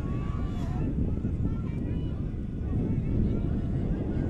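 Wind gusts buffet outdoor microphones at a junior ultimate frisbee championship match, a heavy low rumble that swells and holds steady throughout.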